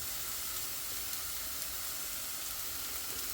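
A cheap Aldi Everyday Essentials steak sears in a frying pan with a steady, loud sizzle and hiss that holds evenly throughout, with no voices.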